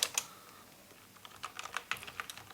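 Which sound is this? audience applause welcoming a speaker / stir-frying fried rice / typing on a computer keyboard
typing on a computer keyboard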